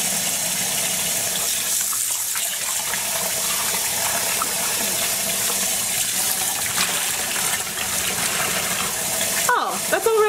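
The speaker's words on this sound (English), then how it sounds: "I'm going to keep washing this and see if I can get the water to run clear" Tap water runs continuously over acid-dyed fabric being rinsed clear in a sink, a steady splashing flow with faint handling noises and a brief louder gush near the end.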